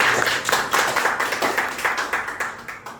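A small audience in a student gathering claps loudly on request, a fairly regular run of close, sharp handclaps that keeps the same rhythm for three seconds.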